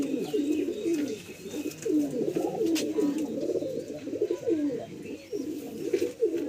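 Pigeons, a female among them in a pigeon sale, coo in continuous overlapping low throaty warbles, close and steady throughout.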